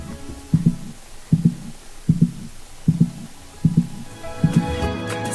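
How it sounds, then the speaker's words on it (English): A mother's heartbeat heard up close, a steady, deep double thump repeating about every 0.8 seconds, soft and muffled with nothing else over it. "The child can hear the mother's heartbeat as if it's cuddled up to her chest"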